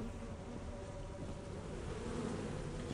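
A swarm of bees in the Lethal Company video game, giving a dense, steady buzz that holds at an even loudness throughout without any voices.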